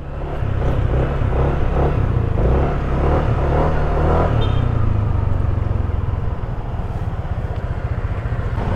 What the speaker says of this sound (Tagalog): Bali 5 motor tayo ngayon. 2 Honda Click, isang Rusi, isang Aerox 155.